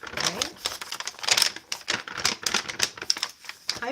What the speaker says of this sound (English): Sounds like paper, right?